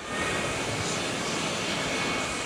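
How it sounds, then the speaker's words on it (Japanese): Continuous roar of a landed airplane's engine as it moves on the ground at Kansai Airport, broad steady rumble heard from a distance, no voices. "着陸した機体が動く姿を見るのも面白いですね。"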